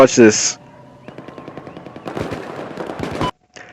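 Gunfire in Battlefield 4 comes as a fast rattling burst of automatic shots, with a loud sharp crack at the start and a brief pause after the burst.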